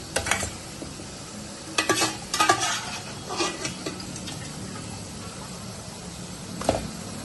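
Boiled beef going into a pot and frying for yakhni pulao, a steady low sizzle broken by several sharp scraping and stirring clatters, close and moderately loud.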